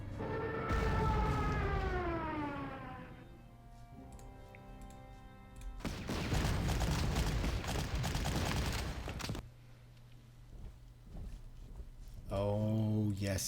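A Stuka dive bomber from the Panzer Corps war game attacks, its rising siren wail sweeping upward, followed by a long roaring burst of bomb blasts and a second siren swell at the end. A voice talks over parts of it.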